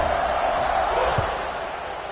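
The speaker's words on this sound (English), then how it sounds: "this crowd is buzzing after that last score" A football stadium crowd buzzes after a touchdown, a dense, steady roar of many voices with a brief dull thump partway through, likely under a commentator's voice.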